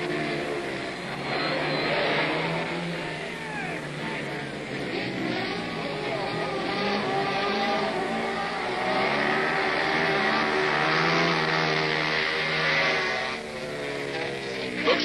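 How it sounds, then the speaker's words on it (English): Motorcycles race on a 1971 Daytona short track, their engines snarling continuously and loudly throughout with wavering pitch as bikes pass, while a commentator talks over the racing. "His bike is running perfectly."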